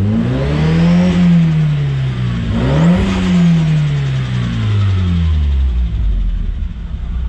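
A 1.8T swapped ZZW car engine revved up loud and close, with two sharp rises and falls in pitch followed by a settling idle rumble.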